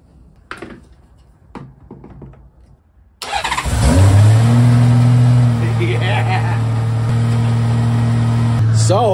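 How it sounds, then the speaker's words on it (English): Motorbike engine cranked with a compact Nexpow jump starter catches abruptly and settles into a loud, steady idle close by, after a few seconds of quiet voices and handling sounds beforehand. "This little thing started up the bike"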